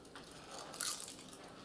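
Crispy roasted collard greens, cooked beneath a butterflied spatchcock chicken, crunch in a few quiet, close bites with soft chewing.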